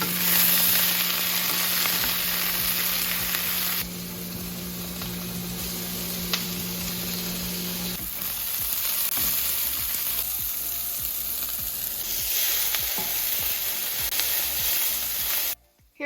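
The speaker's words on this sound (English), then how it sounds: "now I'm just gonna heat up the cast iron skillet for the sausage to go on" Sliced sausage sizzles steadily in a hot cast iron skillet, a loud continuous frying hiss with occasional stirring, close up and unbroken by speech until it cuts off at the end.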